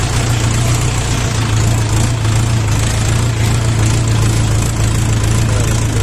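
The engine of a LOVOL 354 mini tractor runs steadily in second gear, a loud continuous low rumble with a rough knocking texture, heard up close and alone.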